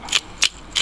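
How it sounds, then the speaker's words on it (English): Pepper grinder turned in three short ratcheting bursts while cracking pepper onto a cooked steak, each grind crisp and close with brief pauses between, no talking. "Add some pepper."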